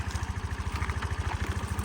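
A Suzuki Address V125 S scooter engine idles steadily nearby, a low rhythmic putter with a faint mechanical clatter running throughout.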